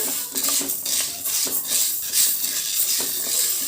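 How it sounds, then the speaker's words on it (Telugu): Whole green gram dry-roasted slowly over low heat in a pan, the spatula scraping and rattling the dry lentils in steady repeated strokes, close and fairly loud, with no talking. "పెసలు దోరగా వేయించుకోవాలి మాడకుండా సిమ్లోనే లోపల పప్పు అంతా ఉడికే విధంగా వేయించుకోవాలి"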